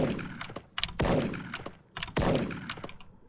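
Sniper rifle shots in the Special Force online shooter game, two sharp heavy booms about a second apart, each trailing a metallic reload clack and soft clicks, loud and close with no talking.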